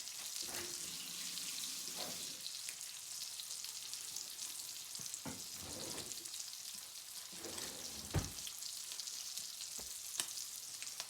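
Salmon fillets sear in brown butter in a pan, giving a steady, bright sizzle throughout with occasional spatters and soft clinks of basting.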